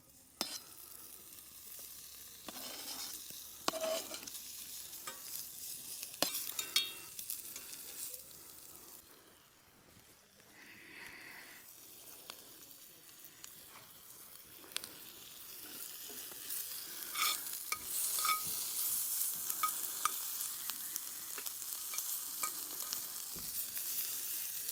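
Breakfast pizza pieces sear in a warm pan over an outdoor campfire with a quiet sizzle, scattered ticks and scrapes, and a hiss that swells louder toward the end, with no talking.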